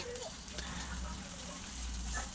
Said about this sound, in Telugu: ఆనియన్ రెడ్గా అయ్యే వరకు డీప్ ఫ్రై చేసుకోవాలి